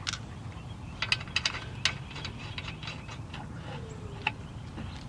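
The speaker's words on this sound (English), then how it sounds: "so we're gonna throw the bolts back on there like that" Lug bolts are set back onto a car wheel during a flat tire change, with small metallic clinks and ratcheting ticks scattered sparsely at close range.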